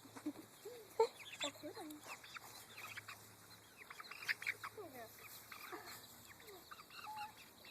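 Backyard chickens and a young turkey clucking at close range, several short calls scattered among a child's and others' voices talking nearby.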